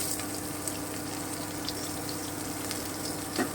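A steady, low hiss of ground bottle gourd leaf paste sizzling in hot oil, even and unbroken, with a faint clink near the end.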